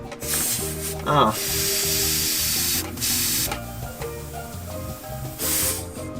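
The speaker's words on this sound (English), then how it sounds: "Yeah, that's leaking quite badly, so I'm gonna have to find a solution to stop that leak of air." Compressed air hisses loudly out of a cracked tube fed from a spare tire on a classic VW Beetle, a broad, steady rush that surges and drops in several bursts, with a voice talking underneath.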